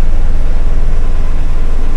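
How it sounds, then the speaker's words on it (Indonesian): Toyota Kijang Super engine running with the air-conditioning compressor engaged, a steady loud mechanical hum and drone with low rhythmic pulsing throughout, no talk. "itu suara kompresor saya"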